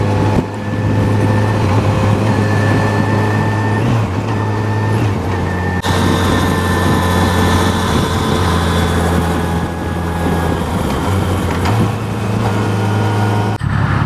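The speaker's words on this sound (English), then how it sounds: "So I've been cruising around on the FJR 1300 for a while" A 2015 Yamaha FJR1300 sport-touring motorcycle ridden on the road, giving a steady, loud engine drone with wind rush that holds constant throughout, with no talk.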